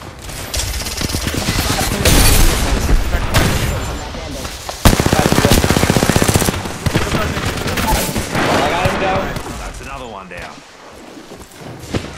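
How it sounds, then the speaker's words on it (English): Apex Legends video game gunfire, bursts of rapid automatic shooting and single loud shots in close succession over several seconds, with players talking over the action. "I am taking fire"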